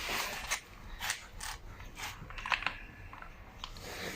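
A ratchet wrench backing out the outside bolts of an 02M 6-speed gearbox housing, with a series of quiet, crisp clicking bursts spaced unevenly across the clip over low background noise.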